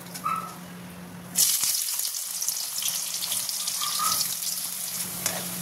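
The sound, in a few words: sliced onions frying in hot white oil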